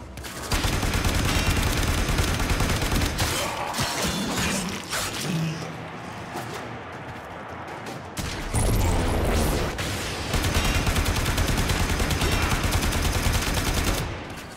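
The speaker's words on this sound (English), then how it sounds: "Shot the crap out of him." Heavy gunfire in Warframe tears into an enemy: dense, loud bursts of rapid shots that run almost nonstop, with mechanical clanks and a brief lull midway before the shooting resumes at full force.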